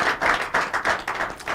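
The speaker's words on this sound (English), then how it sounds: "Make we clap for." An audience claps in a room, several distinct bursts of hand claps coming in an uneven rhythm, moderately loud and close, with no voices over them.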